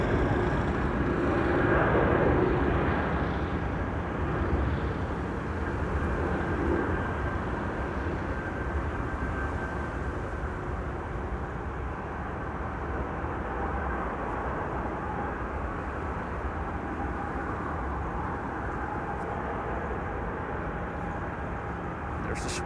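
A jet airliner at Amsterdam Schiphol Airport makes a loud, continuous rumble and whine that fades a little over time, heard from a distance at the runway while someone speaks over it.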